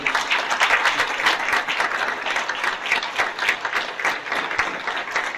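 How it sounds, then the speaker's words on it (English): Audience at a Tiger Bay candidate forum applauds the candidates, a dense, steady round of clapping from a full room that holds for the whole stretch without talk over it. "How about a huge round of applause for each and every one of the candidates here"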